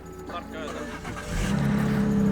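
A car engine idles as it is warmed up on a February day, its hum growing louder and deeper partway through while people talk over it.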